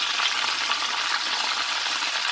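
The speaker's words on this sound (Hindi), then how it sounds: "चिकन जो है मैंने फ्राई के अंदर डाल दिया है" Chicken pieces frying in a pan on the stovetop, a dense, continuous sizzle and crackle heard up close at steady loudness with no talking.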